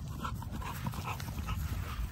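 Puppies panting, the male dogs up for sale, heard as a steady low rapid breathing that runs the whole time with soft scuffling, close by and alone without talk.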